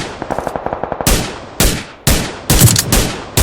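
Gunfire in PUBG Lite: a quick burst of light automatic shots, then several single loud, sharp reports spaced apart, each with a decaying echo, close and prominent.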